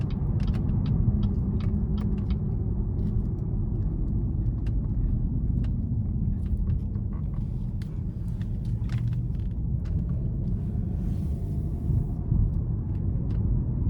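A 2017 Buick LaCrosse with a 3.6 V6, driven in normal mode, heard from inside as a steady low engine and road rumble, with a few light ticks and rattles over it.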